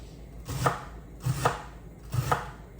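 A knife chopping celery on a cutting board, three distinct evenly spaced chops, close and fairly quiet, with no talk.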